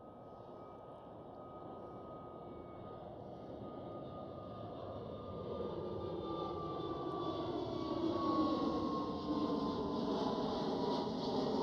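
A China Eastern Boeing 777 airliner passes at Schiphol Amsterdam, its engine roar building steadily over several seconds with a sliding whine as it goes by.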